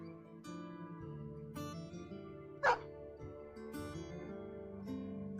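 Dogs in a video game bark and yelp, with one sharp loud bark standing out in the middle over a steady bed of game music and ambience.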